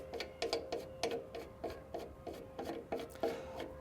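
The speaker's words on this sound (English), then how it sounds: "I have a small hand wheel at the side here. I'm just going to wind this out." A small side hand wheel on a C20/C24 interchangeable cartridge machine is wound out, giving a regular series of short ratcheting clicks and rasps, about three per second, close and fairly quiet.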